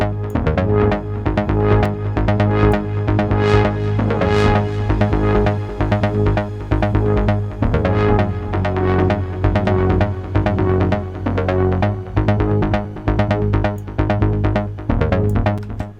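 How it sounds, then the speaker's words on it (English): A Moog Subsequent synthesizer plays a steady low drone beneath a pulsing bass line and busy notes, continuous and loud throughout. "Turn on the bass and we can turn on the drone,"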